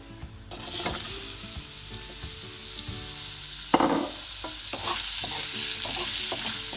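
Raw mango pieces being mixed into freshly roasted spices in a pan, giving a steady frying sizzle broken by scraping stirs and a few sharper knocks of the spoon, close and loud, with no voices.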